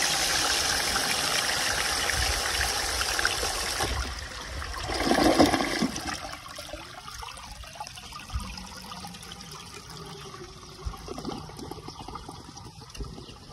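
Water runs through the rim of a 1920 Standard ejecto toilet, a loud rushing flush for several seconds that swells briefly, then thins to a quieter trickle and dribble.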